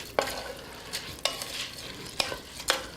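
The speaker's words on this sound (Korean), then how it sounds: "이렇게 해서 한번 저어볼까요? 잘 섞어주세요." Glutinous rice being stirred with jujube-steeped water for yakbap, a Korean sweet rice dish: four distinct scraping strokes spaced about a second apart over a faint wet background, close and moderately quiet.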